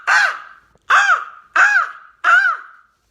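A human voice imitates a crow in a rasping metal-style scream, four harsh caw-like calls in a steady rhythm, loud and close with short gaps between them.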